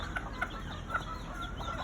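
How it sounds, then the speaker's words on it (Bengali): Chickens clucking while pecking at broken rice grains scattered as feed, several short soft clucks repeating over a steady outdoor background hum. "এই খুদ দিতেছে এই মুরগিগুলি"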